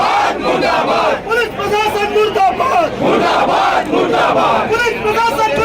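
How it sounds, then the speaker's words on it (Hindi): A crowd of BJP workers and leaders chants slogans against the police administration in loud rhythmic bursts, many voices shouting together in repeated phrases. "पुलिस प्रशासन के खिलाफ जमकर नारेबाजी बीजेपी कार्यकर्ताओं ने नेताओं ने की।"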